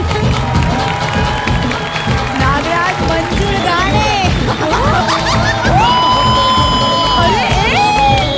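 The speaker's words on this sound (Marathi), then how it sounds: "अण्णा उर्फ नागराज मंजुळ गाणे यांच्यासाठी जोरदार टाळ्या झाल्या पाहिजे" A studio audience on the comedy stage show Chala Hawa Yeu Dya applauds and cheers loudly for director Nagraj Manjule. The sustained crowd noise is mixed with shouts and background music.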